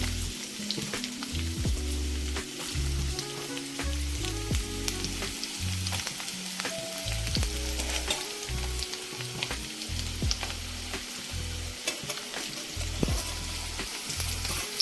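Onions and curry leaves fry in hot oil for gongura curry, a dense continuous sizzle and crackle like patter, with occasional stirring scrapes, steady and close throughout with no voices.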